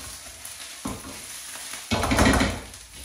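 Garlic and ginger paste frying in a pan for chicken bhuna, a steady low sizzle that swells into a louder burst of crackling and stirring partway through.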